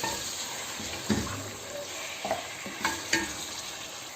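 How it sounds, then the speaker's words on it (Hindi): Mutton sizzles and fries in a pan with ginger-garlic paste, a steady crackle broken by a few louder scraping stirs; no voices. "7 से 8 मिनट तक हम गोश्त को भूनेंगे"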